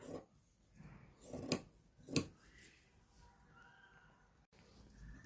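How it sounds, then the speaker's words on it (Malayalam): Scissors snipping down through fabric while cutting out a shoulder-elastic nightie or kurti, a few crisp separate cuts spaced over several seconds, close and fairly quiet, with no talking. "നമ്മൾ താഴേക്ക് ഇതുപോലെ വെട്ടിയെടുക്കുകയാണ്"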